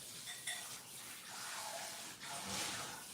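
Tap water runs steadily in a home kitchen sink as an item is washed and rinsed, a soft continuous splashing hiss with faint shifts in flow.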